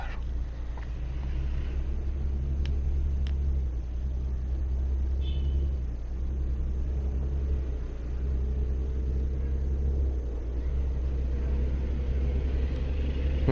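A heavy truck engine in an open-world truck-driving game rumbles low and continuous at steady volume throughout, with a faint click or two on top and no talk.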